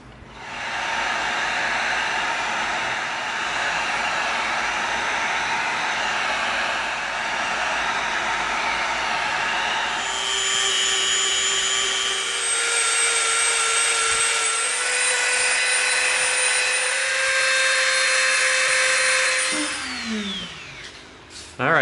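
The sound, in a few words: heat sealing EVA foam pieces with a heat gun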